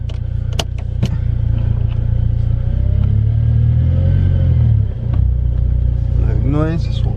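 A VW GTI turbo hatchback drives on a test run after gearbox and cam sensor replacement, its engine a loud steady rumble close by, easing off briefly mid-run and then picking up again as gears change.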